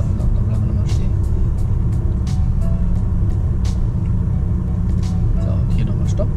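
A car rolls slowly along a residential street during a driving lesson, with a steady low engine and tyre rumble underneath continuous talking inside the cabin.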